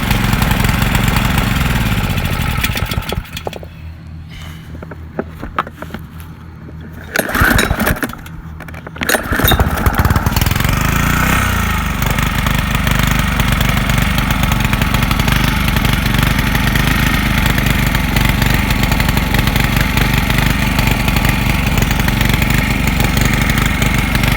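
A rebuilt Honda GC160 small engine, once flooded, runs close and loud with a steady buzzing idle, goes quiet for a few seconds with brief clattering handling sounds, then picks back up and settles into a constant even idle.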